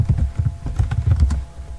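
Fast typing on a computer keyboard while entering employee data in a database: a close, steady run of crisp key clicks and thumps for about two seconds, with no voice.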